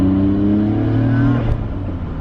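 A Nissan Skyline R34 M-Spec Nür engine pulls hard while driving. Its steady, loud cabin drone climbs briefly, then cuts off as the throttle eases, heard from inside the car.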